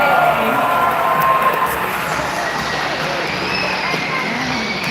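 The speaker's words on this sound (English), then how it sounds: "How about a round of applause for all 6 of our male dolphins for getting our show started today?" An audience at an outdoor dolphin show claps steadily in a broad, even wash of applause, with some crowd murmur mixed in.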